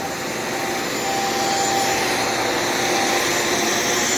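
A Shark Vertex vacuum cleaner runs steadily and loudly up close, a constant broadband whooshing roar with a faint whine on top as it sucks debris from the floor.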